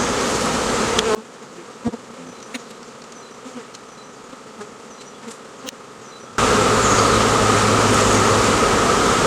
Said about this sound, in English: We don't need any more swarms from this hive.